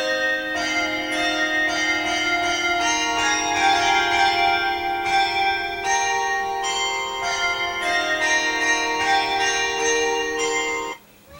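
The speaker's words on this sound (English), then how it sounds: "So we're gonna let you listen to the entirety of this last midday chime for some time." A midday church bell chimes continuously for about eleven seconds, loud, ringing strikes overlapping into a sustained, resonant wash before it cuts off.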